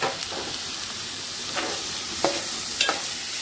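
Chopped green chillies and onion sauté in a pan for egg bhurji, a continuous soft sizzle broken by several light scraping strokes of stirring, with no talk.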